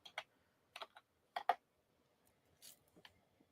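Several short bursts of computer keyboard typing, quiet clicks in small clusters with brief pauses between them, close and alone with no talking.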